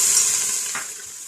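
Cumin and onions frying in a hot pan give a steady, close sizzle and crackle, loud and bright the whole time with no talking.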